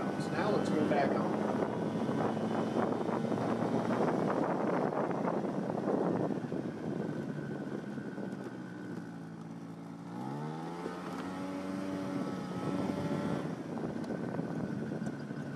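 A Honda Aero 50 scooter rides along a road on a short mail run, its small engine droning steadily under wind noise, with the engine pitch sweeping up as it accelerates near the end.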